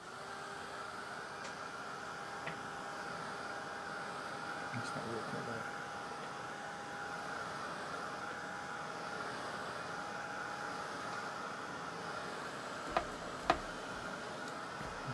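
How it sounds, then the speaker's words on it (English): A hair dryer blows over a watercolor painting to dry it, a steady moderate whirring hum with airy hiss that runs unbroken, with a couple of faint clicks near the end. "Put the hair dryer on."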